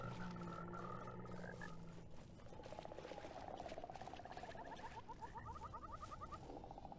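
In the video game Mortal Shell, a frog croaks in rapid rattling bursts over a steady dense ambient rumble, with the croak runs growing busier toward the end; no voices.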